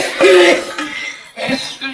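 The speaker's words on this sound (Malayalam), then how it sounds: "സാറേ, ഏകദേശം ഇതുപോലത്തെ ചുമയാണ് അമ്മാവൻ തുടങ്ങിയത്." A person gives a few loud, close, harsh coughs in quick succession, with short pauses between the bursts.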